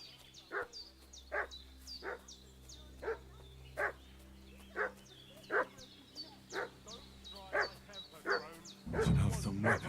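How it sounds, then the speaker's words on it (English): A dog in Kingdom Come: Deliverance 2 barks repeatedly in a steady, evenly spaced rhythm at mid distance, over a low game ambience that swells into a louder rumble at the end. "What's that dog making such a fuss about?"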